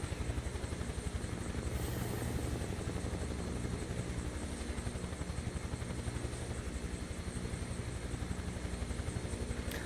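A Huey helicopter flying over Aspen, Colorado, in snow, heard as steady rapid rotor chop with engine whine, continuous and fairly close throughout, with no talking.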